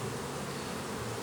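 Honeybees hum from an open hive, a dense, steady buzz that is close and continuous, with no voices.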